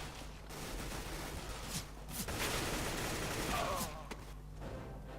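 Rifle gunfire in the CS:GO deathmatch video game, with bursts of rapid shots running almost continuously through the clip at steady loudness, plus a faint voice in the background.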